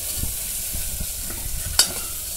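Peas and potato curry masala is sautéed in a pan, with repeated stirring scrapes over a steady sizzle, close and moderately loud, and one sharper clink near the end.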